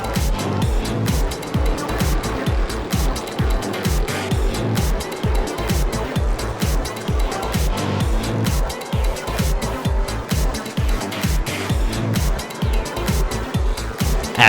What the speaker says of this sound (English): A multi-lap battle would unfold, with Austin making multiple attempts to get by McMurray before getting a little help from lap traffic.